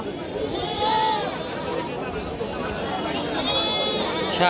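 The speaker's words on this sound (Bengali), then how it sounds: "বাজারে মোটামুটি প্রচুর লোকজন এবং ছাগলও অনেক" Goats bleat amid a crowded outdoor goat market, a few brief calls rising over a steady babble of many people talking nearby.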